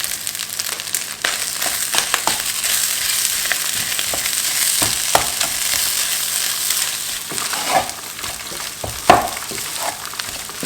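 Cooked rice is broken up and fried in a pan for egg fried rice, making a continuous bright sizzle broken by scraping and pressing sounds from a utensil, with a louder knock near the end.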